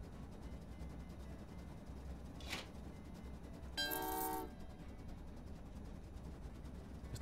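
Train horn from the railway game Train Valley 2 sounds once, a brief loud blast over a quiet running-train rumble, with a short soft hiss shortly before.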